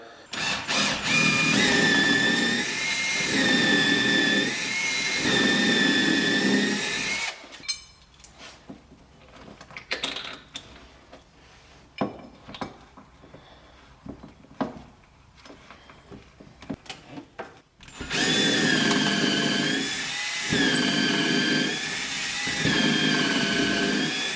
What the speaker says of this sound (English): So you'll want to drill pilot holes.